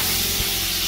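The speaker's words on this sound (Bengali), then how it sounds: "চিংড়ি মাছটা প্রথমে ভেজে নেওয়া হচ্ছে।" Prawns coated in salt and turmeric hit hot oil in a wok, giving a loud, continuous hissing sizzle for a brief moment.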